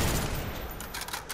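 Rapid gunfire in the Black Ops free-for-all shooter, a dense fusillade that stays steady and moderately loud for the whole stretch, with no voices over it.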